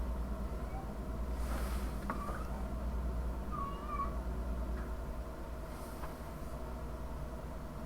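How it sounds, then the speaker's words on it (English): A cat meows a few times in the background, short faint cries rising over a steady low hum, with no voices heard. "Sorry for the cat meowing in the background."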